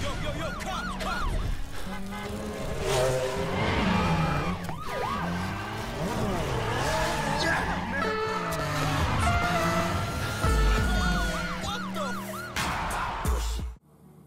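Police car sirens wail in a Need for Speed 2015 chase, rising and falling continuously over roaring engines, loud and close, while a voice speaks over them.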